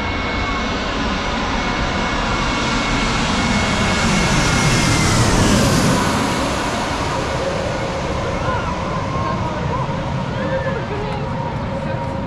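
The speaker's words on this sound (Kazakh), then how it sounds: "Дәл төбеңнен ұшып өтуі деген мықты." A fixed-wing passenger plane passes low overhead on its landing approach to Batumi airport in Georgia, a loud sustained engine roar swelling to a peak midway and staying heavy to the end, with faint voices under it.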